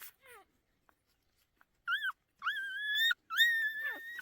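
Newborn puppies lying in the dirt give several short, high, wavering whimpers and whines in quick succession, close by, with quiet gaps between them.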